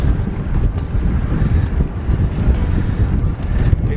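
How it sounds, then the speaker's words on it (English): Strong wind buffets and roars across the microphone outdoors, a loud, continuous low rumble with gusty swells and no voices. "Very, very, very windy."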